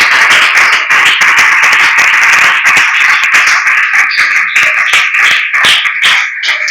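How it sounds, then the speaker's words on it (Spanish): Church congregation applauding during an evening worship service, a loud, dense and steady clapping that runs unbroken from start to finish with no talk over it. "¿Por qué no le regala ese aplauso al Señor en esta noche?"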